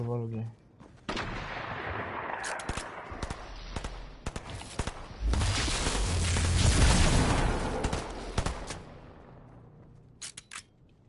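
A bomb goes off in a video game: loud, dense blasts and crackling gunfire-like bursts build to a rumbling peak midway, then thin out into scattered sharp cracks, with voices murmuring now and then.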